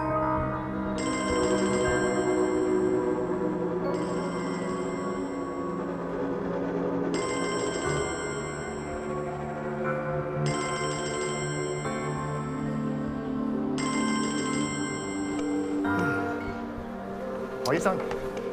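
A telephone rings in repeated long bursts, about five rings in steady rhythm, loud and close, going unanswered inside a busy hospital setting, with voices talking under it.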